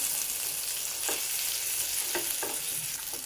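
Stuffed eggplants (bharli vangi) sizzle steadily in a pan, with a few soft scraping strokes as they are gently turned over, no one talking.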